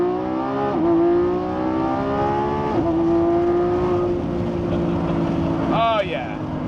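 2024 Lamborghini Revuelto, a 1015 hp street car, accelerating hard on a highway with a loud rising engine whine climbing through several gear shifts, a sharp high pitch sweep near the end.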